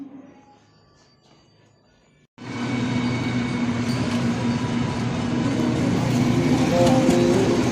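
A metro train in Delhi at the stop for Chandni Chowk: after a quiet platform, a loud, steady rumble of rolling carriages swells in suddenly and keeps up for several seconds, with no one speaking.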